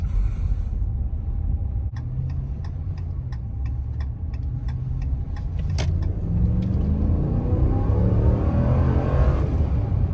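A 2021 RAM 1500 Warlock pickup with a 5.7L HEMI V8 on big tires accelerates, its engine note rising steadily and growing louder over about ten seconds, with a run of regular ticking clicks near the start.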